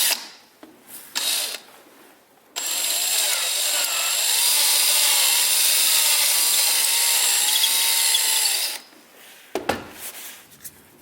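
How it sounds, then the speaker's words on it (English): A power drill with its bit widening a hole in a plastic GoPro housing, a sustained whining grind lasting several seconds, bracketed by short bursts and clicks of handling before and after. "So I'm going to drill it out just a little more by doing a side-to-side motion"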